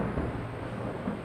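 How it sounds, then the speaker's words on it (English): Deep rumbling thunder, loud and close, rolling steadily with no clear sharp crack, alone without voices. "Another boom of thunder, so loud this time it shakes the walls"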